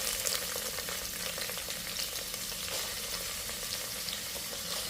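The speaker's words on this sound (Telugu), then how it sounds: "వేడి కాగానే దాంట్లో పచ్చిమిర్చి వేసుకోవాలి. ఇప్పుడు కలమాకు వేసుకోవాలి. దాని తర్వాత ఉల్లిగడ్డ వేసేసుకోవాలి." Green chillies, curry leaves and onion fry in hot oil for a sprouts curry, giving a loud, steady, dense sizzle that runs unbroken throughout with no voice.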